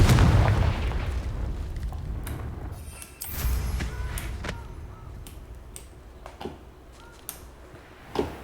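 A Confringo fire spell explodes in the Hogwarts Legacy video game, a deep booming blast at the start that rumbles and fades, followed by a second thud and scattered sharp pops and crackles, with no talking.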